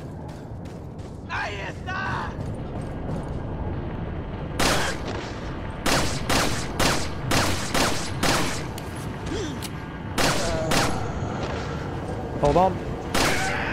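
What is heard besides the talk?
gunshots in video game Resident Evil 4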